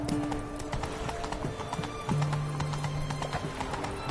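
A horse galloping in The Witcher 3 video game, rapid, close hoofbeats clattering throughout with a tonal neigh drawn out in the middle.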